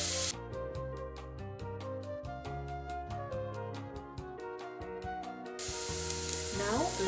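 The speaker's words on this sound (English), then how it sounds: "When the oil gets warm, let's add the onion. And let's fry it for a few seconds till it gets soft." Onion fries in warm oil for pasta al forno, a soft sizzle under rhythmic background music that rises to a clearer, brighter hiss near the end.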